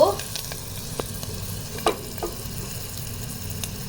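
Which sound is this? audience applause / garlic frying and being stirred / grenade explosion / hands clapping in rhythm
garlic frying and being stirred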